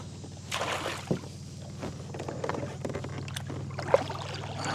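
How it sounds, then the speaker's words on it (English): Paddling a small boat up to a blue crab trap: soft paddle strokes and water sloshing against the hull over a steady low hum, with occasional knocks and clunks, close and fairly quiet. "We'll just paddle up to this one."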